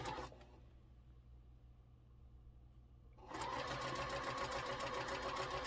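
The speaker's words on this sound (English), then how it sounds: "I'll just open this one up and sew these right down" A sewing machine stitches small quilt block pieces, starting after a short quiet pause and then running steadily and fairly loud to the end.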